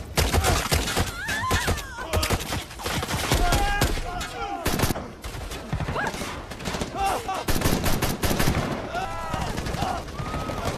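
Rapid bursts of gunfire crack repeatedly in a dense, chaotic action scene from the film Topakk (2023), with shouting voices and music layered underneath throughout.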